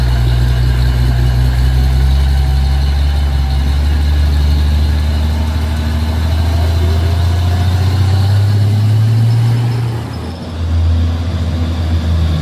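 A truck engine idles and runs with a deep, shaking rumble, loud and steady, with harmonic tones sliding slightly before a brief dip near the end; no talk is heard.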